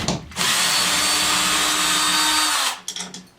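Power socket driver backing a bolt out of a TV wall mount: one continuous loud whir lasting over two seconds, ending abruptly, followed by a few quick rattles and clunks close by.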